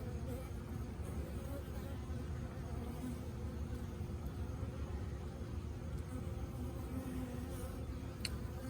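A captured honeybee swarm being settled onto hive frames hums in a constant, dense drone, close and even throughout, with a few faint knocks and no talking.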